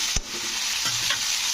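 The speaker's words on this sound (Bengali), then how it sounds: "এবারে সবজিগুলোকে আমি লাল লাল করে ভেজে নিচ্ছি" Vegetables frying in oil in a pan for a simple vegetarian spinach curry, with a steady sizzle and a few scraping stirs of the spatula, close and continuous with no talk.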